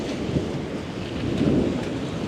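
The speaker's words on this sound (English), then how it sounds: "Oh wow, I'm hearing a lot of thunder in the sky." Thunder rumbles low and continuous in the sky over a city street in Richmond, Canada, a distant rolling roar with a hiss like rain, with no voices.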